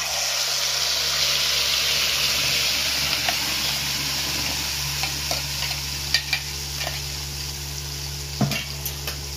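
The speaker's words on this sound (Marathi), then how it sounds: "आता पेस्टला चांगली आपण भाजून घेऊ, म्हणजे शेकून घेऊ" Masala paste sizzles steadily in a hot pan while a spoon scrapes and stirs it, giving a close, constant frying hiss with occasional soft clinks and no talk.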